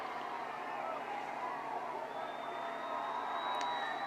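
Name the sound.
roar of football crowd cheering state championship win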